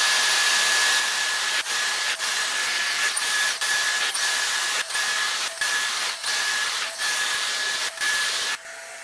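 A Dyson Airstrait hair dryer-straightener blows air in a loud, steady whoosh with a faint high whine, with brief regular dips as it passes over hair, then cuts off near the end.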